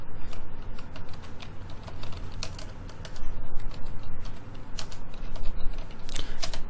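Computer keyboard typed on continuously while entering C++ code, fast irregular clicking keystrokes close by with a few louder clustered taps, no voice.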